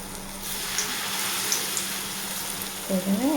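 Ginger and garlic fry in hot oil with a steady, close hiss of sizzling, and a voice briefly cuts in at the very end.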